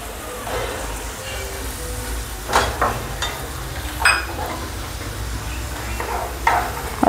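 Tomatoes tipped into a hot pan with cumin for masala pav, giving a steady loud sizzle with a few sharp scraping stirs of the spoon; a voice talks briefly over the cooking.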